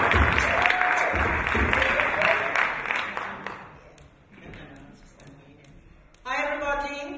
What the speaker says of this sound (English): please keep the applause going for Aita Gooden.